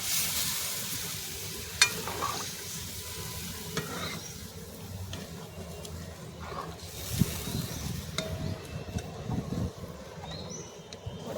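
Loud, steady sizzling of dry mutton frying in a pan over a wood-fired stove, with scraping stirs and occasional sharp pops and crackles throughout.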